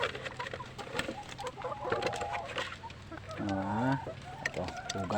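Chickens clucking nearby on a farm, steady overlapping clucks with a few louder calls and a rooster-like cry near the end, mixed with background bustle and faint voices.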